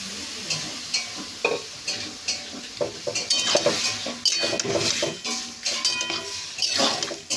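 Boiled potatoes and peas being stirred and mashed in a pot for oil-free ghugni with chickpeas and pea lentils: repeated close scraping and clattering strokes in an uneven rhythm, no talk.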